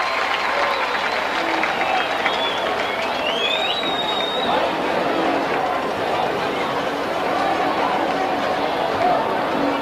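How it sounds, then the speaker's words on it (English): Packed stadium crowd at a Texas 4A-II high school football quarterfinal in the Astrodome, cheering and clapping in a continuous roar, with whistles and shouts rising above the din. "Let's listen in to the P&G crowd."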